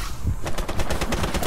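Rapid automatic gunfire in a video game, a steady burst of closely spaced shots lasting the whole moment, loud and close.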